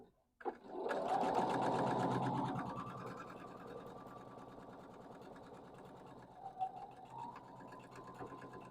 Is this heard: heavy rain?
no